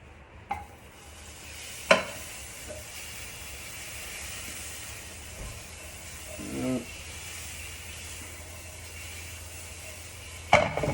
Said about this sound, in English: I'll add a piece of butter to the pan.